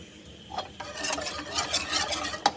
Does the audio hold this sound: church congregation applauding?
no